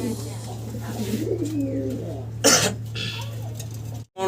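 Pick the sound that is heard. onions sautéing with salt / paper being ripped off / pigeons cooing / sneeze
pigeons cooing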